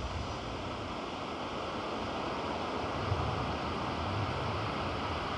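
Surf at Kudle beach in Gokarna, Karnataka, rolls in as a steady, fairly faint wash of waves with a constant hiss and a slightly heavier surge near the end, with no voices.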